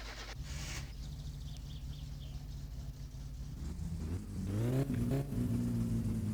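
In the driving game My Summer Car, a modified car with a freshly rebuilt engine starts from a quiet idle and then revs up loudly near the end, the pitch climbing in a rising whine.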